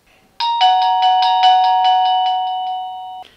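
A Reolink video doorbell chime rings out clearly, a bright repeated tone pattern lasting about three seconds, then cutting off.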